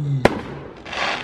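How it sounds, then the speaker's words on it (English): Fireworks going off at night, heard from a porch: one sharp, loud burst followed by a crackling, fizzing tail. "Those are nice fireworks."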